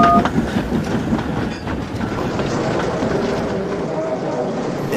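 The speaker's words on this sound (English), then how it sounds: "Toad was watching the engines passing by with their trains." Trains rumble past with rhythmic clickety-clack of wagons over the rails, steady and fairly close, no one speaking.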